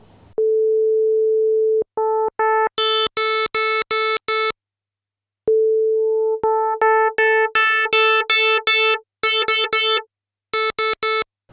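FM synthesizer tones from a Korg Opsix or Yamaha DX7, a steady held note followed by rapid bursts of bright, bell-like staccato notes in short repeated runs, played alone.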